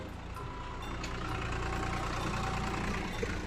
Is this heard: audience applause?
no